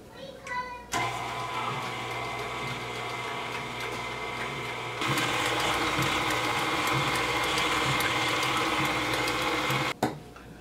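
Cake batter being mixed with a steady electric mixer whir that starts abruptly, grows louder partway through, then cuts off near the end, close and continuous.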